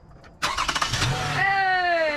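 A Toyota Sienna engine cranks with a rapid chugging for about a second after a battery replacement, catches and settles into a rising idle, heard up close after a brief voice.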